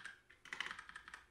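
Quick, close computer-keyboard typing in an irregular burst of light clicks and taps, with no talking.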